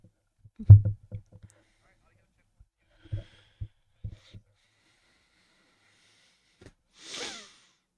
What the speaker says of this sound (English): bumping it doesn't sound good